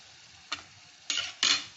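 Labango sweets frying in oil over low heat make a quiet sizzle punctuated by three short bursts of scraping and bubbling as the pieces are stirred and lifted.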